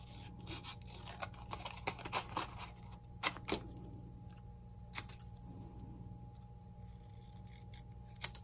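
Scissors cutting out a paper stamped Halloween image for a caramel apple tag, a series of quiet close snips and paper rustles spread irregularly across the stretch, with louder single cuts standing out.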